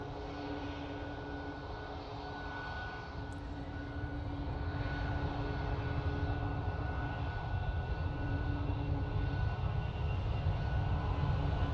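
An airplane at gusty Manchester Airport makes a steady, distant engine roar that swells slightly over time, heard alone with a faint background hum.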